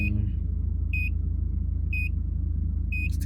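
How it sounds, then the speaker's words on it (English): A 1992 Toyota Hilux Surf engine keeps idling with the key out, a loud steady low rumble close by with short high beeps chiming about once per second. "So it gives the engine time to like run before it turns off."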